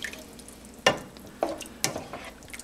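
A spoon stirs canned tomatoes and salt in a pot, giving quiet scraping knocks, three distinct strokes over a soft background, with no talk.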